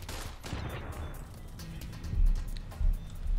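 Several 10mm pistol shots from Fallout: New Vegas, a few sharp reports spaced apart over a low background rumble, fairly close and moderately loud.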